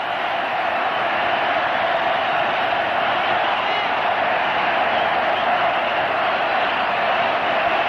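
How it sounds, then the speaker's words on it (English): A dense cricket-stadium crowd in Mumbai, at an India versus Sri Lanka match, chants and buzzes in a steady, unbroken roar that fills the whole stretch without pauses. "So the crowd chanting away,"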